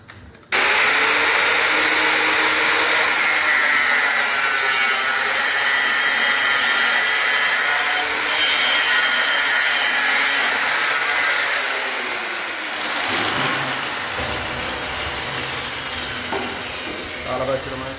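Cutting disc power tool slicing through an aluminium profile, a loud, close, sustained high-pitched grinding whine that holds steady for about twelve seconds before easing off, with someone talking afterward.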